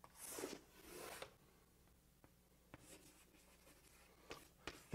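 Pen or marker scratching out calculus notes by hand, faint scribbling strokes in short bursts with small taps and pauses between, no voice.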